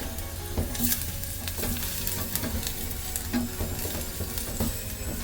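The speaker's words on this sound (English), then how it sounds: "And then we stir it up." Cashew cheese with nutritional yeast being stirred, a continuous soft sizzling texture with repeated scraping and tapping strokes of the utensil, close and alone without talk.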